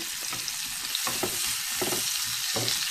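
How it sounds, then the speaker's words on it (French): Onions and peppers frying over high heat, a steady loud sizzle with intermittent scraping and clacking of a utensil stirring the pan, close by and without talk. "je fais tourner un petit peu mes oignons"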